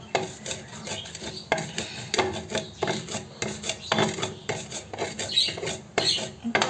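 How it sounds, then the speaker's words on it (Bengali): Chili is ground on a grinding stone in continuous rough rasping strokes, close and fairly loud, with scraping passes that repeat unevenly and no talk. "প্রথমে আমি মরিচটা বাটনে পিষে নিলাম।"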